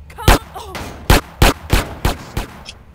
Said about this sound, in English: He's shooting a hooker.